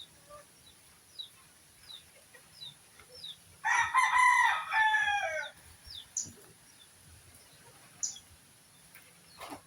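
A rooster crows loudly once in the middle, with scattered soft clucks from chickens nearby before and after.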